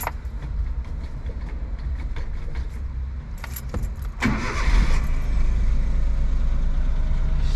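A Suzuki Jimny fitted with new spark plugs cranks from cold and catches, then settles into a steady, low rumbling idle, close and continuous, with a faint jingle of keys near the start.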